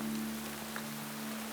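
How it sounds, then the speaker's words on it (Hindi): Heavy rain pours in a steady, even hiss at moderate volume, with a low constant hum underneath and no voices. "बारिश काफी तेज है।"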